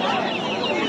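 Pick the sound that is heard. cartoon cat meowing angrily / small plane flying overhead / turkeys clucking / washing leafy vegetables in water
turkeys clucking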